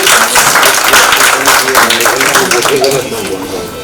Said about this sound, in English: let us give a round of applause and welcome all our artists